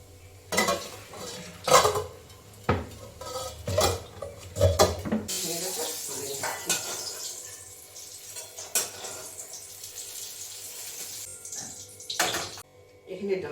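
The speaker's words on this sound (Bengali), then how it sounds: "অল্প করে একটু নেড়ে নিচ্ছি।" A spoon scrapes and knocks against a cooking pan while vegetable curry is stirred, close clattering strokes in irregular bursts, with water-like sizzling and a person talking at times.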